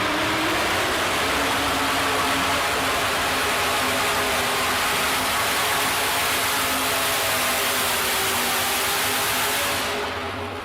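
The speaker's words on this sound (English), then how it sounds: "I like the name of that truck." A pulling truck roars in a continuous loud, dense engine blast with a steady low drone beneath it, holding at full power for several seconds before tapering off at the very end.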